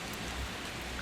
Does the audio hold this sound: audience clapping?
no